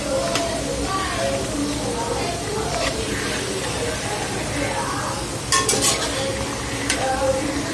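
Batata vada sizzles in hot oil with a steady frying hiss, punctuated by clinks of a metal spoon against the pan, while people talk nearby.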